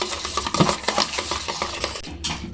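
A spoon clinking and scraping against a bowl while egg batter is mixed with coconut powder, rapid irregular metallic taps close by with no talking.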